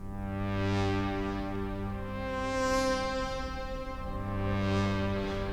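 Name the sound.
arpeggiated synth patch from Cherry Audio Trident MkIII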